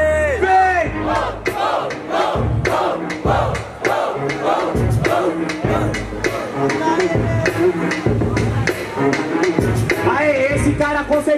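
A live crowd at a street rap battle roars, with loud massed shouting and chanting in rhythmic bursts that carry through the whole stretch, close and energetic.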